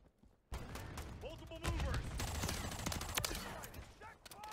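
Sniper gunfire in an online shooter game, sharp cracks scattered through a dense, busy mix of game effects, with a person talking over it.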